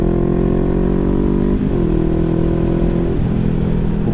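Honda CBR500R 2017 motorcycle engine revving steadily and loudly at close range, its tone dipping and rising twice as the throttle shifts, with no talk over it.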